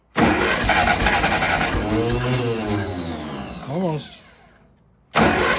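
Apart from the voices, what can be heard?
tractor engine cranking and trying to start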